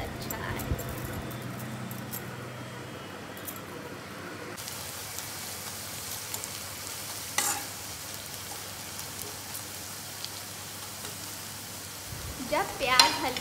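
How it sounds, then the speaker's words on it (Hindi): Chicken biryani masala with potatoes being stirred in a pan, a low continuous sizzle with scattered scrapes and clinks of the spoon, ending in a short burst of louder stirring. "उसे चिकन में डाल के चिकन के मसालों के साथ अच्छे से मिक्स कर लेंगे"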